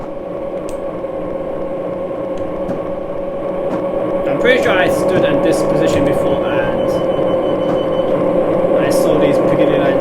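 London Underground Piccadilly line train in Train Simulator 2019 passing through a station at speed without stopping, near Ealing Broadway; steady rail rumble and hum that swells after a few seconds, with someone talking over it.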